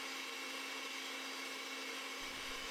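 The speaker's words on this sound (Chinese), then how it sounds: "4颗蛋的蛋清加入50克的细砂糖，用搅拌器从慢速开始搅拌" An electric mixer whisks four egg whites with 50 grams of fine sugar, making a steady, even motor whir without a break and no talking over it.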